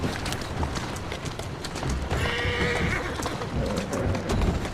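A horse in a video game whinnies loudly, with hooves clip-clopping beneath, amid ambient game sound and a faint voice.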